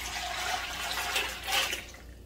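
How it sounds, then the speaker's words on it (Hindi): Mutton yakhni stock poured into a cooking pot for pulao, a steady liquid splashing and gurgling that runs for about two seconds, fairly close, then tapers off, with no talking. "अब हम इसमें शामिल करेंगे अपनी यखनी।"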